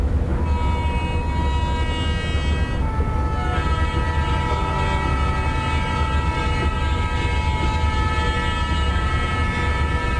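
A train in Microsoft Train Simulator, the Ganga Kaveri Express, rolls on with a steady loud rumble of wheels, and a long sustained horn sounds over it.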